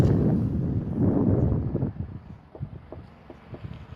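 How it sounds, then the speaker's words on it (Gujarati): Breeze buffets the microphone on a bridge over a ravine near Sadra village in rainy weather, with strong rumbling gusts for the first two seconds that ease into softer, intermittent wind puffs. "કેવું મસ્ત મસ્ત હવા આવે છે ને, વાતાવરણ વરસાદી છે એટલે."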